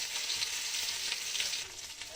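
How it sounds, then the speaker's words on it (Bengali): Dried fish frying lightly in oil with turmeric and salt in a village kitchen, giving a steady, dense sizzle that holds close and even throughout with no voices. "তেলে দিয়ে দিলাম শুটকি, হালকা ভেজে নেব"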